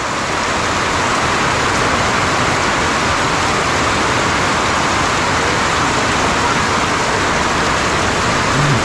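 Heavy rain pouring down steadily outdoors, a dense, even hiss that stays loud and constant throughout with no voices over it.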